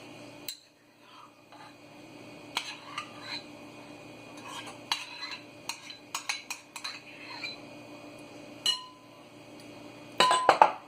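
A utensil mixes mayonnaise into crab macaroni salad in a bowl, giving scattered clinks and scrapes against the dish at an irregular rhythm, close and moderately loud, with a louder clatter at the end and no talk.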